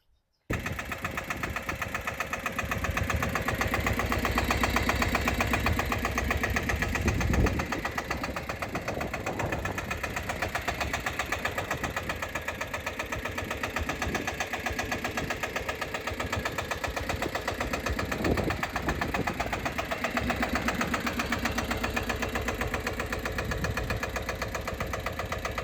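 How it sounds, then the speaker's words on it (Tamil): Single-piston 18 HP four-wheel-drive tractor engine idling, a steady, loud, knocking mechanical chug that runs on without a break, close by and heard alone. "இது வந்து ஒரு சிங்கிள் பிஸ்டன் வண்டி, 18 HP 4 வீல் டிரைவோட வந்துருங்க"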